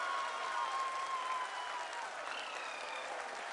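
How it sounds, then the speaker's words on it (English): A large crowd applauds at an ISRO mission event, dense continuous clapping that stays steady and fairly distant for a few seconds. "People are applauding."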